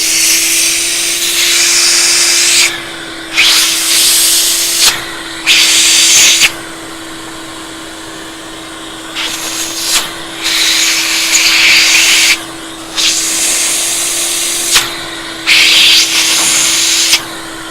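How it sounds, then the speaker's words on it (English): A shop vacuum cuts in and out in repeated bursts of a few seconds each while cleaning dust and water out of the bore of an acrylic pen blank on a lathe, over a steady low hum between bursts. "I'm going to vacuum that out in a minute to get all the dust out of the center and the water out."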